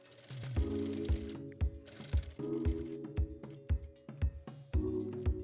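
Sewing machine stitching folded kurti fabric in several bursts, each a rapid mechanical chatter with a rhythmic clunking beat, separated by brief pauses for handling, close and clear.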